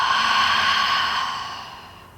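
A long, deep breathy exhale during yoga breathing, loud and close at first, then slowly fading over about two seconds with no talking.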